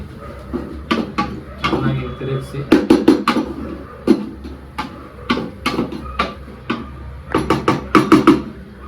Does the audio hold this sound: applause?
no